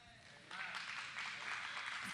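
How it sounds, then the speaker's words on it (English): A church congregation claps together, a faint, steady patter of many hands that swells after a short moment and holds. "Clap right there."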